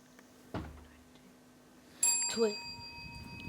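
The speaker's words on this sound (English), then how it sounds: "The bell came" A quiz show buzzer bell rings during a Jamaican schools quiz contest, a sharp bright ding standing alone and then decaying, followed by a brief voice and quiet room background.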